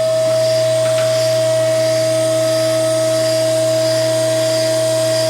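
A mandrel tube bender steadily bends a steel frame rail for a 1947-1953 Chevy 3100 truck, giving a constant loud hydraulic hum with a steady whine that runs unbroken throughout.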